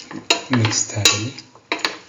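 A spoon clinks and scrapes against a pot while spices are stirred into a cauliflower and chayote stew, giving several close, sharp metallic taps and rattles in quick succession.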